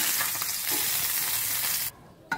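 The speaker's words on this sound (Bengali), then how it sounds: "মাছগুলো সবগুলো ভাজা হয়ে গেছে, এবারে আমি তুলে নেব।" Fish frying in oil in a wok gives a loud, steady broadband sizzle that runs continuously, then drops abruptly near the end before a brief burst returns.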